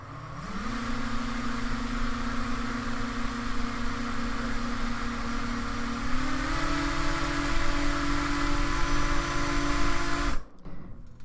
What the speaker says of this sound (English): So if we turn our motors on, things are about to get real.